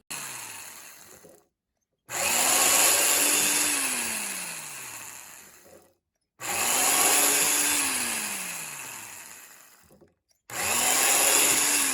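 A power drill cuts into a wooden art frame, running in three long close whining bursts with short pauses between them.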